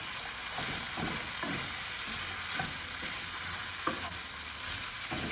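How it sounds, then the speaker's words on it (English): Goat meat and Irish potato asun stirred in a frying pan, a steady sizzle with repeated scraping strokes of the spoon running through the whole stretch, close and fairly loud, with no talking. "So you can just add this in and stir everything together."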